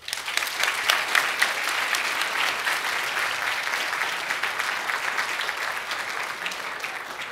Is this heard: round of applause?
yes